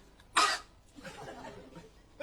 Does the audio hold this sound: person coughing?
yes